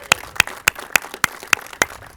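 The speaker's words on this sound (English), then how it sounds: "Let's give them all a round of applause." Slow, evenly spaced single claps at an Italian flag raising ceremony, about eight sharp, close hand claps in a steady rhythm over faint background noise.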